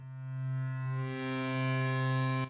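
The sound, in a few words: reverb effect in miRack synthesizer app on iPad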